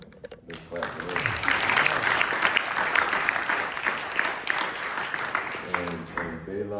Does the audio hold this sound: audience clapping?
yes